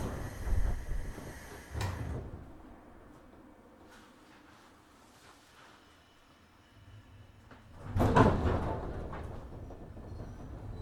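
Sliding doors on a JR 103 series 1500 train on the Chikuhi Line close with two distinct thuds several seconds apart, set against the low rumble of the stationary carriage.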